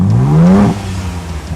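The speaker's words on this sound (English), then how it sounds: "did you even hear that motor?" A Ford Bronco Raptor engine revs loudly up close, its pitch climbing steadily for about half a second before dropping off into a lower rumbling idle.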